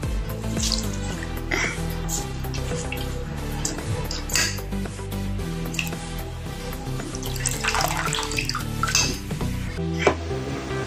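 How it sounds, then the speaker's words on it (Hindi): Grated sweet potato pressed and squeezed by hand to drain its water, giving continuous wet dripping and splashing with light clinks of kitchen dishes and utensils, close and steady throughout. "इसको हम दबा दबा के इसका पानी निकाल देंगे"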